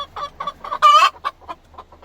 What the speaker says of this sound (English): There is 4 hens in here trying to use that box